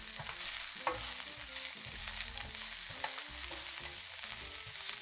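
Green peppers stir-frying in a pan as sauce goes in, giving a steady sizzle with scraping stirs and utensil clatter throughout.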